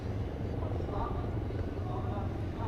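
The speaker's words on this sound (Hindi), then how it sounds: "और अब आप देखेंगे 2 एडवांस लाइट हेलीकॉप्टर्स, जिसके माध्यम से कमांडोज की मुख्य टुकड़ी यहाँ पहुंचेगी।" Two Advanced Light Helicopters arriving at an Indian Army demonstration, a continuous low rotor thrum and engine drone at moderate distance, heard steadily throughout with no gaps.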